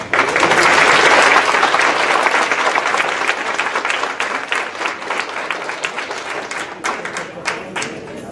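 A college-wide staff meeting crowd claps loudly, the sustained ovation strongest at first and then thinning slightly into more distinct individual claps as it carries on.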